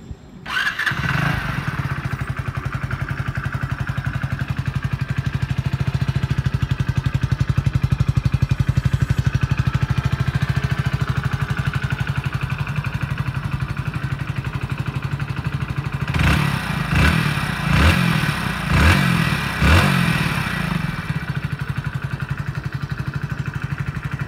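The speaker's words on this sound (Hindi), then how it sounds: "तो चलो इसको मैं आपको एक बार स्टार्ट करके सुनाता हूँ इसका साउंड" Hero Splendor Plus BS6 commuter motorcycle starting up, then idling steadily and close by with an even, low engine drone, followed near the end by several quick throttle blips.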